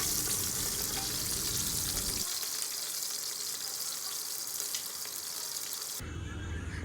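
Continuous hissing sizzle of onions frying in a hot pan, steady and close, with the texture shifting slightly partway through.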